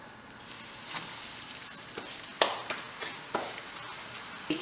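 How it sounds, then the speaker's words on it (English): Steady sizzling of pak choi sticks frying in hot oil, with crackles and brief pops scattered throughout, close and fairly loud. "we're gonna fry our pak choi stick"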